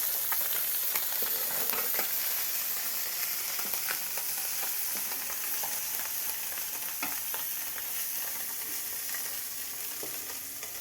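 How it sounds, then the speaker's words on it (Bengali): Small puti fish fry in a pan with a dense, constant crackling sizzle that stays loud and even throughout, dotted with tiny pops and no voices. "ভাজতে ভাজতে খেয়ে দেখতে হবে মাছটা শক্ত হয়েছে কি"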